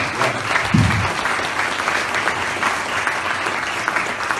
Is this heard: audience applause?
yes